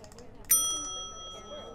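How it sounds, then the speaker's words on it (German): A single clear doorbell ding sounds in the adventure game Die Kunst des Mordens: Der Marionettenspieler and rings out for about a second while someone speaks over it. "Ich werde nicht wie ein Kind mit der Klingel spielen."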